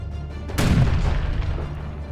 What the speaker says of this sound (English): bombarded the rebel position on Mousehold Heath with cannon fire from an artillery position